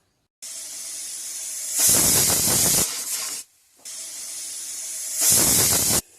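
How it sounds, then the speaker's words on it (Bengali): A pressure cooker on a home stove, cooking spicy mutton curry, gives two loud steam whistles, each a steady hiss that swells into a harsh, bright blast before cutting off, with a short quiet gap between them. "এবারে চাপা দিয়ে 2টো সিটি দিয়ে নেব।"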